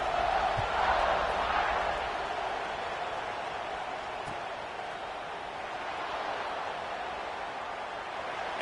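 A football stadium crowd after a touchdown makes a steady, distant roar, a faint broad wash of noise with no single voice standing out.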